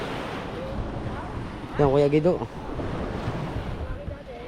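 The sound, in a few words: strong water current around boat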